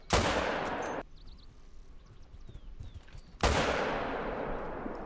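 Two loud rifle shots fired at a bison in the hunting game Call of the Wild, each a sharp blast with a long fading tail, about three seconds apart, with faint ambient birdsong in the quiet between.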